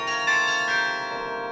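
Carillon bells played in a tower in the mountains, several loud overlapping strikes that hang in a long, shimmering ring.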